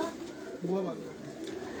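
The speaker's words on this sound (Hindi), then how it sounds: "ये कबूतर उनकी छत पे ये चले आ रहे हैं" Shaheen pigeons on a rooftop giving a soft, short coo, faint and brief under background noise and nearby voices.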